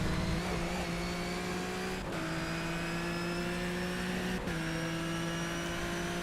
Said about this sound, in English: The tyre scrub sounds terrible.